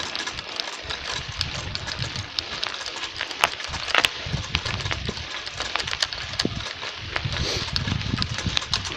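Scooter engine running steadily outdoors on a frosty ride toward a river while its gears fail to shift; a busy mid-level engine drone with scattered clicks and knocks runs throughout, no talking.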